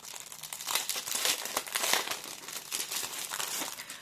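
Plastic packaging, a small bag tucked inside another bag, crinkles continuously nearby, a soft rustle of handling with no speech over it.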